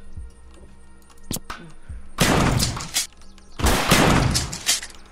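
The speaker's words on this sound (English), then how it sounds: "shoot some shotgun rounds into his butt" Shotgun blasts in the Unturned survival game during a roleplay gang scene, two loud, sustained bursts following a few sharp earlier cracks, with voices talking around them.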